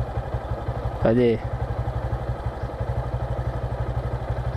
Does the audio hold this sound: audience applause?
no